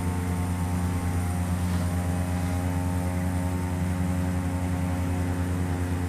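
Carenado C208B Grand Caravan single-engine turboprop in the Prepar3D flight simulator: a steady, loud propeller and engine drone with a constant low hum and whine, unchanging throughout and without talk.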